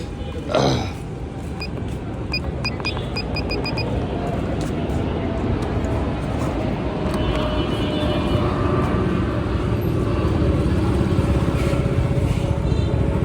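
A Yamaha R15 V3 motorcycle engine runs steadily during an ABS check in a workshop, a continuous close mechanical drone with a few clicking ticks early on.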